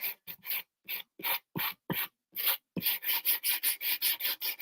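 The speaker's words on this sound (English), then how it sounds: "I'm going to just take the sanding block" Rhythmic rasping strokes of a sanding block, about fifteen scrapes, slow and uneven at first, then quicker and regular, close by.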